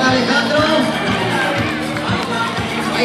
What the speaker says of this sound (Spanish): Venga, fuerte el aplauso para Alejandro.